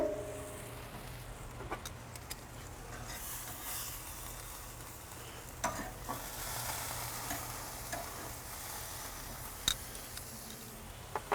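Tenderloin steaks sear on a Weber Silver grill just after being flipped, giving a steady broadband sizzle throughout with occasional sharp pops and crackles, close and moderately loud, with no talking.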